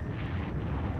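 Bombers dropping bombs with an explosion in the Panzer Corps war game: a dense, loud low rumble of blast, steady and sustained with no talk over it.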